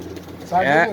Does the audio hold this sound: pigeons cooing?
yes